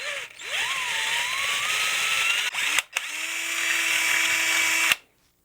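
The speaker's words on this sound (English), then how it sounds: "we can flip this back over and go with our 8 millimeter drill bit" A power drill with an 8 millimeter bit bores into a solid guitar body, its motor whine rising in pitch as it spins up, running steadily for several seconds with short pauses and stopping abruptly.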